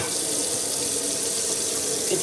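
Water pours steadily from a tap used for washing hands, a continuous close hiss and splash that stays even and loud throughout.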